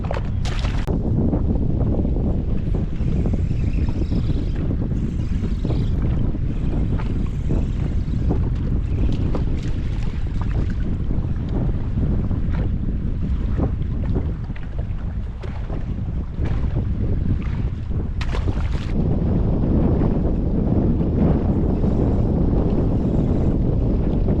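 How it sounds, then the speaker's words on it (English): Strong wind buffets the microphone on a boat out on Lake Shelbyville during a spring fishing trip for white bass, crappie and sauger. It is a loud, steady low roar that fills the whole clip, with no talk. "this wind is crazy"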